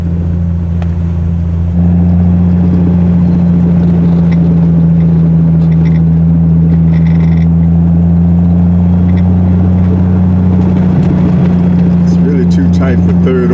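A Triumph TR6 engine pulls steadily in third gear, a loud, constant low drone that steps up slightly early on and holds an even note, with faint voices underneath.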